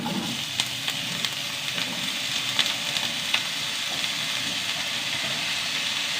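Potatoes fry in a pan with garam masala, giving a steady, dense sizzle with faint crackles and occasional sharper pops throughout, close and continuous with no voices.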